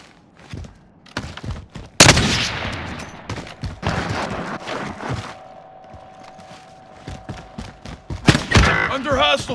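Gunfire in Call of Duty Warzone, with scattered sharp shots and short bursts, a heavy blast around the two-second mark and another cluster near the end, mixed with thuds and a sustained tone, plus brief game voice lines.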